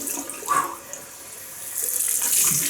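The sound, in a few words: cold water rinse running from tap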